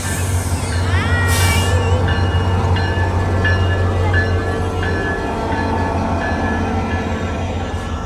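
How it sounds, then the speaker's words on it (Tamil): Train passing close by in Florida, a loud, steady low rumble of wheels and cars with rhythmic rail clatter and a brief hiss near the start, continuing unbroken throughout. "World famous ரயில் வந்துகிட்டு இருக்கு."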